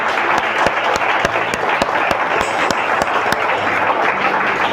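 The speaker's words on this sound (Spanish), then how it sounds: "Denle un aplauso al Todopoderoso" Sustained applause from a church congregation during an evangelical worship service, dense and steady clapping with a few sharper claps standing out, loud and close throughout.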